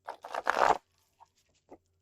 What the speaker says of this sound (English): I'll shuffle for transparency's sake here